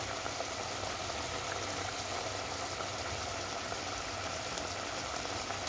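Chicken frying in its own rendered oil, a steady, dense crackle and sizzle that holds evenly throughout, close and moderately loud with no talking over it.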